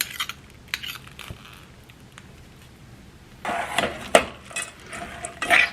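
A spoon stirring melting fudge ingredients in a pot on medium heat, with quiet scrapes early on, then louder clattering and metallic knocks against the pot toward the end.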